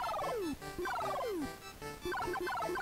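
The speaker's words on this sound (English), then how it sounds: "there's that bird with the poop again" Synthesized bird calls from the Dr Jekyll & Mr Hyde video game chirp in rapid, descending warbled runs, repeating in three bursts over a constant electronic game backdrop, with no voices.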